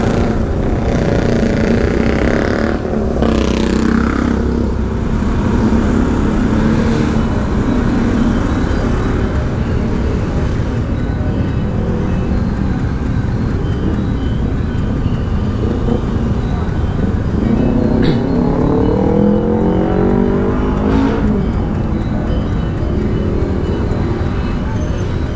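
A car corners fast through night streets in Denpasar, Bali, its engine and road roar loud and constant inside the cabin, with passing-vehicle swells and brief whooshes along the way.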